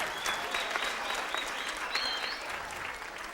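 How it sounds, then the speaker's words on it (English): Audience applause at a Latin jazz performance lecture at the Kennedy Center: dense, steady clapping from a crowd, fairly close and sustained for a few seconds without letup. "Everybody, a big round of applause for Raquel for being so brave."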